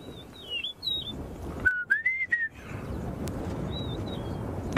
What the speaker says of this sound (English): I find it a very, very pleasant call of the rufous-naped lark.